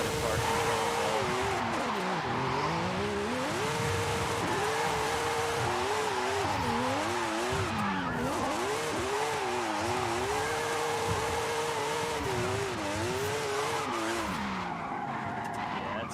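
A race car drifts around a twisty track in a video game, its engine wailing and rising and falling as tires squeal continuously through linked slides, loud and close for the whole stretch.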